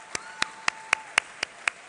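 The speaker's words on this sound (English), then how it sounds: "Let's clap for her." An audience at a professorial inaugural lecture at KNUST claps in sharp, evenly spaced beats, seven crisp claps in a steady rhythm, fairly close, with a faint tone hanging underneath.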